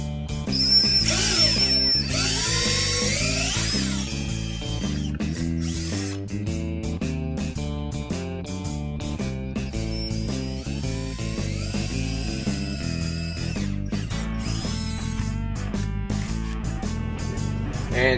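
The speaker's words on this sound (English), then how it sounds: "Next, you will drill your holes." A power drill bores holes for a handrail installation on a truck camper or RV, whining at a steady pitch with rhythmic pulsing for most of the stretch, close and loud.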